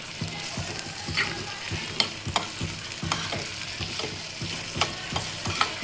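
Salted thecha frying in a pan sizzles steadily while a spoon stirs it in regular rhythmic scrapes and taps, close and moderately loud, with no talking.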